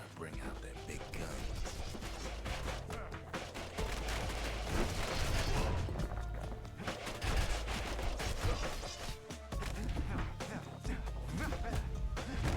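Ura soldiers fire guns and cannons in the video game Bastion, with repeated bursts of gunfire and heavy booming blasts layered over a dense, continuous battle backdrop at steady loudness.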